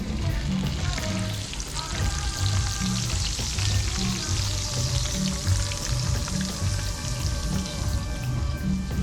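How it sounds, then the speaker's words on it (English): Snapper roe sizzling steadily in hot oil for a backyard Guyanese curry, a dense continuous crackle with a low rhythmic thumping running beneath, no voices. "So I'm gonna fry this up before we make the curry"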